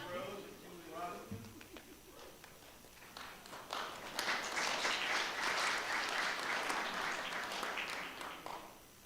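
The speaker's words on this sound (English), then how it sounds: "Give our scholars a round of applause." Board meeting audience applauding students, building from talk into a sustained round of clapping that swells loudly and then tapers slightly, with speech heard before it begins.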